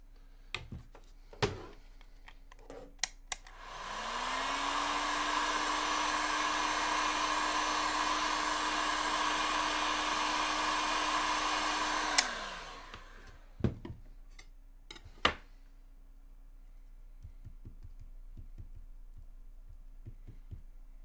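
A hair dryer clicks on and blows with a steady, even whir for about nine seconds, then shuts off. Scattered faint clicks and taps sound in the quiet before and after.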